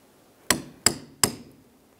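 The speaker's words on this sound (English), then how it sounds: "we'll use a chisel and make our way in the center, trying to separate these 2 ears" Three sharp metallic hammer blows on a chisel driven between the strut ears of a 2002-2009 Chevrolet Trailblazer front suspension, evenly spaced and ringing briefly, close and loud in an otherwise quiet space.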